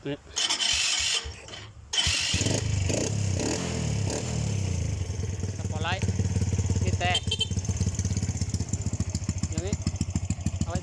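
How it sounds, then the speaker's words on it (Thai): A small tractor engine is cranked by hand and catches, settling into a steady rapid chugging idle as a few voices talk nearby. "สตาร์ทมือ นี่ ดูดู สตาร์ทมือนี้"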